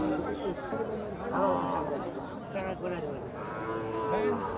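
Cattle lowing at a busy Eid cattle market in Panchagarh, Bangladesh, with several moos rising over constant chatter from many people nearby.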